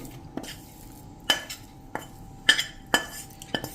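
A spoon scrapes and taps as amaranth jaggery fudge is spread into a ghee-greased plate, giving a series of sharp metallic clinks and knocks at irregular intervals over a quiet background.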